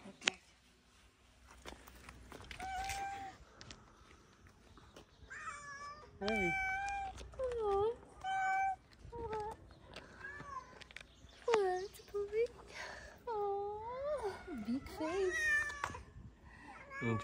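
A female cat in heat meows loudly and repeatedly, long rising and falling cries close by, while people speak to it over and between the calls.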